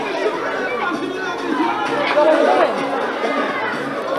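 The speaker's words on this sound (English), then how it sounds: "the bench and the small crowd here at Warner Park loving it" A small crowd and team bench cheering and chattering at a netball match at Warner Park, a steady murmur of many voices rising slightly midway, moderately near.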